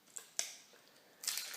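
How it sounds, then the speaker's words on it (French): A small barrel from an unboxing kit is handled and opened, with a few sharp clicks and snaps, a crisp plastic crackle near the end, close and quiet. "Il y a un petit baril. On va l'ouvrir ensemble."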